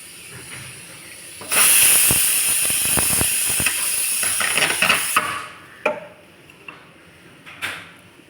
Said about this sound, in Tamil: மீன் போட்டு நம்ம ரொம்ப நேரம் கொதிக்க விடக்கூடாது